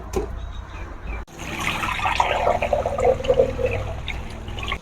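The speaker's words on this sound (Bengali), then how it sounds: "আমি আবার জল দিয়ে এটাকে বেশ মাখিয়ে ভালো করে পরিষ্কার করে ধুয়ে নিলাম" Butter balls are rinsed and kneaded in water by hand, producing a close, continuous sloshing and trickling after a sharp knock, fairly soft throughout.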